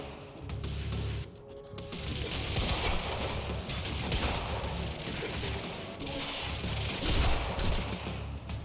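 Sustained gunfire from the video game Quantum Break, rapid repeated shots in dense bursts with mechanical clatter, loud and continuous throughout with a brief dip early on.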